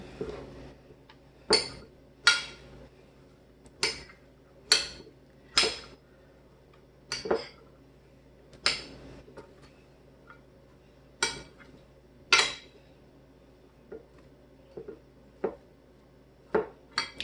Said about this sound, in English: go ahead and give it a couple of stirs to try to get everything a little bit more evenly distributed